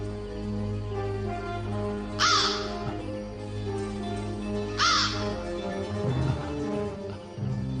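A crow caws twice, a few seconds apart, each a harsh, clear call over a steady musical drone in a Javanese legend drama.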